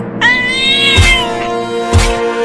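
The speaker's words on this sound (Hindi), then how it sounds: "अरे मम्मी रे, वो बिल्ली दूध लेकर भाग रही है।" A cartoon cat lets out a long, bright, wavering meow up close, loud over a steady background tone with two soft thuds.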